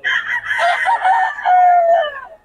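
A rooster crows close and loud in one drawn-out call, alone with no talk, among gamefowl offered for sale.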